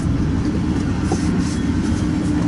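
An eastbound double-stack freight train on the Union Pacific Transcon line near Fremont, Nebraska rumbles past close by in wet fog, a loud steady roar of wheels and cars with no talk.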